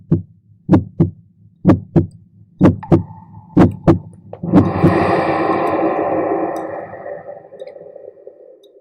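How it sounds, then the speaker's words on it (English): Slow, deep heartbeat thumps come in paired beats, loud and close, for several seconds, then give way to a swelling, echoing resonant drone, as in a cave-art film's sound design. "perhaps we can even hear our own heartbeats"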